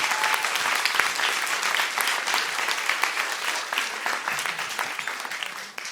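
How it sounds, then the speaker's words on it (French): A festival crowd at the grand opening of SHAKA Festival 2025 applauds loudly and steadily for about six seconds, a dense, continuous wash of many clapping hands with no voices over it. "Je crois qu'on peut encore vous applaudir."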